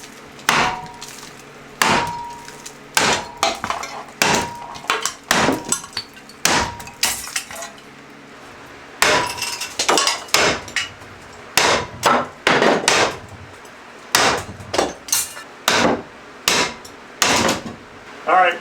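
A hammer smashes out a fixture during a home renovation, sharp loud impacts in irregular bursts, often several quick blows in a row with short pauses, some rattling debris between hits.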